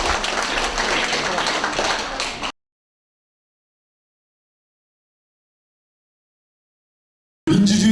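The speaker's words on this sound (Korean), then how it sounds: "옆에 사람들한테 박수가 한번 쳐주세요." Audience applause at a Busan civic forum launch ceremony, a dense burst of clapping that drops to silence and then resumes briefly, with a voice cutting in at the end.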